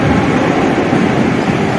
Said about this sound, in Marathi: मी आलो सानपाडा स्टेशनवरती इथनं पकडायची पनवेलसाठी दुसरी लोकल